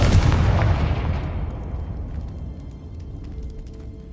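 A Confringo blasting spell goes off in Hogwarts Legacy, one loud close boom that rolls into a long, fading rumble with a faint crackling tail.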